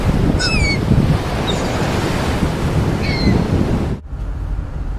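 Ocean waves wash onto a black sand beach with a loud, continuous surf roar and some wind buffeting the microphone, ending in a brief dip near the end.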